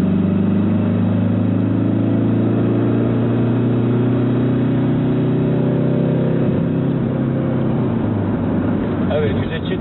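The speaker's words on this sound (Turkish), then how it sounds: "Arabanın bir 60'tan 100'e çıkışına bakalım." A Ford Tourneo Connect van accelerating hard from 60 to 100 km/h, heard from inside the cabin: a loud, continuous engine drone whose pitch climbs steadily over ten seconds, with road noise underneath.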